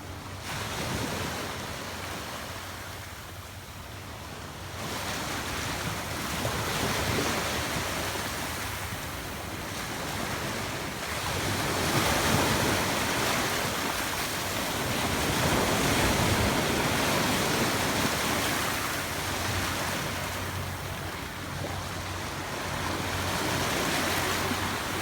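Ocean waves on a cold northern Pacific bay at Seward, Alaska, give a continuous broad wash of surf that swells and recedes in slow surges, with some wind mixed in and no voices.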